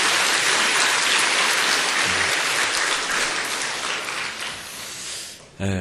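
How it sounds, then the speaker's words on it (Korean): A church congregation at Full Gospel Daegu Church applauds to welcome visiting elders from Daegu First Church, a dense, steady wash of clapping filling the room and tapering off near the end before a brief final burst. "우리 한번 환영의 박수를 한번 해드리겠습니다"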